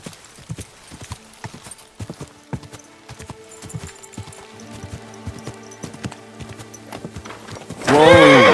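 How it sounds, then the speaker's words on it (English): Horse in Kingdom Come Deliverance 2 galloping with a steady run of hoof clip-clops, then a loud, close neigh near the end. "Easy, good horse."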